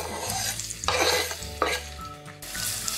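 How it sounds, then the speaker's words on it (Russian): Vegetables for stewed potatoes with liver fry in oil in a kazan over medium heat, a steady close sizzle broken by a few bursts of stirring scrapes. "Слегка поджариваем на масле"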